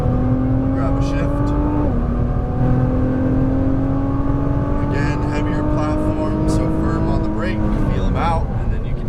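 Nissan GT-R engine on a race track pulling hard after an upshift, a steady loud drone whose pitch drops at the shift and then climbs as the car accelerates, heard from inside with a voice talking over it.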